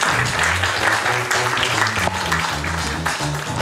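An audience at a human rights and ethics conference applauds a speaker coming on stage, a steady wash of clapping hands throughout, with a voice faintly heard underneath.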